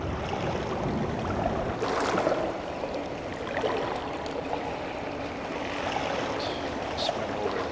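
Water flowing through an underground cavern in the stealth game Thief Gold: a steady, even wash of running water that continues without a break, with no voices over it.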